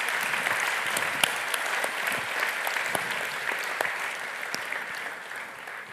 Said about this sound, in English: I'd really like to ask you to all give a round of applause to my brave little FSHD warrior here, Zaharrah.